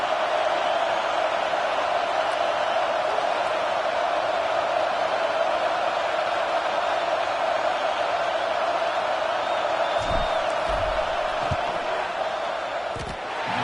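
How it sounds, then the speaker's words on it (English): A broad, steady roar from a football stadium crowd fills the air during a field goal attempt, continuous and dense for the whole stretch with a few faint thumps near the end. "This crowd trying to do its part to get inside the kicker's head."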